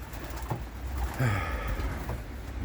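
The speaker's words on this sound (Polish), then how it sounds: "zaraz będą startowały jeszcze trzy gołębie" Soft, low cooing of racing pigeons comes through close by over a background hiss, with a few muffled flutters and rustles.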